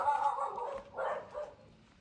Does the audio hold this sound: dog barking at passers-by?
yes